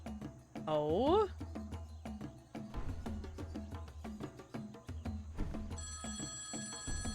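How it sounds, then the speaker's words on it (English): A telephone rings inside the video game Being a Cat, a repeating electronic trill heard under lively game music and effects, with a person talking over the scene. "Oh, the phone's ringing."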